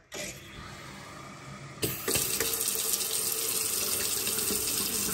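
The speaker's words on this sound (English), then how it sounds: "All right, so we got water running there." Water streams steadily from a newly installed kitchen faucet into the sink, close and continuous, with a brief trickle at the start before the flow opens up fuller.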